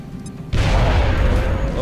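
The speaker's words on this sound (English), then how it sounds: "big explosion" A frag grenade exploding in the XCOM video game, heard as a sudden loud boom that cuts in after a quieter moment and rolls on as a sustained, dense rumble.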